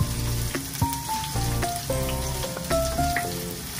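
Onion frying in a pan for ginataang suso, a steady close sizzle with scraping stirs and a few clinks of a utensil against the pan.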